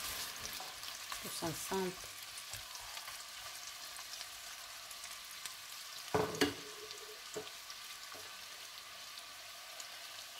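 Lardons frying in a pan for spaghetti carbonara, a steady soft sizzle throughout with a few louder stirring clatters near the start and midway, faint talk briefly over it.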